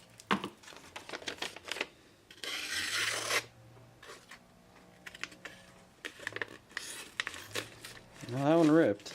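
Sharp curved knife blade slicing through a sheet of paper in short rasping strokes, several quick scratchy cuts separated by pauses, close to the microphone with someone talking in between.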